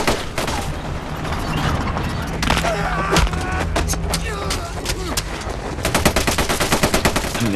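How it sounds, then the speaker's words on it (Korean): Gunfire rattles through a World War II battle scene with German soldiers, dense bursts of rifle and machine-gun shots layered with sharp single cracks and rumbling booms, loud and continuous throughout. "한 명 해치우는 것 치곤 너무 많이 들리는 총성"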